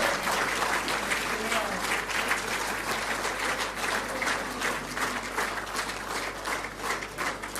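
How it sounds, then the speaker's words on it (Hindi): Guests at a national photography awards ceremony rise for a standing ovation, giving a long, rolling burst of many hands clapping that swells and ebbs slightly but never stops. "हम सभी एक बार खड़े होकर स्टैंडिंग ओवेशन के साथ जोरदार तालियां बजाएंगे"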